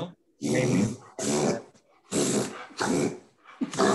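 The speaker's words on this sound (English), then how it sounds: "That's my dog." A dog growls and whimpers in a series of four or five close, throaty bursts, each lasting about half a second to a second, separated by short quiet gaps, with a single brief spoken word mixed in.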